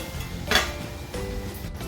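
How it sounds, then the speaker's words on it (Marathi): A lid is set onto a pan of simmering tiny-shrimp gravy over low gas, giving one sharp clink followed by a softer second contact against a quiet kitchen background. "आता मी गॅस मंद करते आणि झाकण ठेवते"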